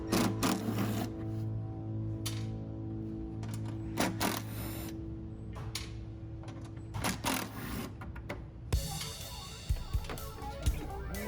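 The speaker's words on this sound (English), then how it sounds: "use a 10mm socket to remove the bolts holding the driver pulley cover in" A 10mm socket works bolts loose from the driver pulley cover on a Landmaster UTV, giving close, irregular metallic clicks and ratcheting taps, then a busier stretch of rattling near the end.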